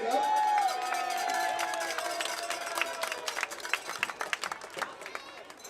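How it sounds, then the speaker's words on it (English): A crowd applauding at a Crabs versus Sacramento Yankees baseball game, scattered clapping building into a lively patter, with a whistle tone near the start. "Keep the applause going for our umpires."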